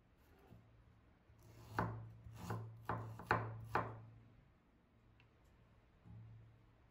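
Fresh ginger is chopped with a knife on a board while preparing a beef rendang spice paste, giving five crisp, close thuds in a quick uneven series over a faint low hum. No one speaks.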